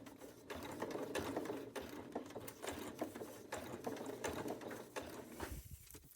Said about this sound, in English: Where I'm going to be sewing a 1/4 inch, it's going to be flat.